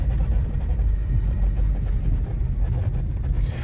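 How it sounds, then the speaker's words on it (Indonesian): Steady low engine rumble and road drone inside the cabin of a 2002 Mercedes-Benz C200 sedan, with a faint air-conditioning hiss over it, continuous and even throughout. "hanya terdengar suara AC dan mesinnya."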